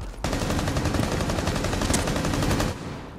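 Rapid automatic gunfire in the video game Rainbow Six Siege, a loud, close, continuous burst of evenly spaced shots lasting about two and a half seconds, with no talk over it.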